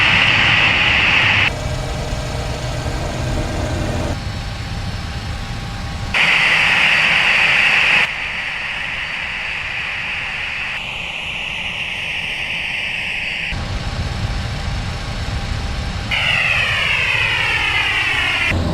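Simulated Boeing 737 jet engines in a flight simulator during a high-speed taxi, a continuous loud whine and rumble that shifts in pitch and level in several segments, with no talking.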